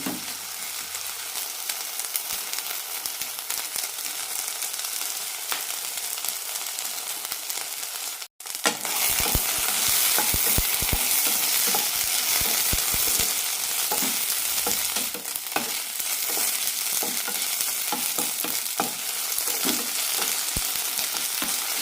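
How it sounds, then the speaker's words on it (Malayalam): Ivy gourd pieces are sautéed in a pan. A quiet steady sizzle jumps to a louder crackling fry after a brief break, with frequent stirring taps and scrapes close up and no talking. "കഷ്ണങ്ങൾക്ക് പകുതി വേവാകണം അതുവരെ വഴറ്റാം"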